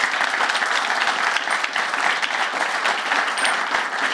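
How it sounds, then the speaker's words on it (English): Sustained applause from an esports audience for the second-place Dota 2 team on stage at a grand final, a dense, steady wash of clapping lasting the whole stretch without pause. "Please, big round of applause for RoX.KIS."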